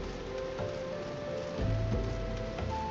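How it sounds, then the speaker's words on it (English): Heavy rain weather in the video game Final Fantasy XIV, a steady soft patter of rainfall under a faint game tone, with a low rumble swelling midway. "So it's hard raining."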